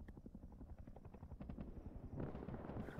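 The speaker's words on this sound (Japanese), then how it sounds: "目の前でヘリコプターが。" Patrol helicopter in the video game Rust, rotor blades chopping in a steady rapid beat close by, growing louder and more intense toward the end with no talk over it.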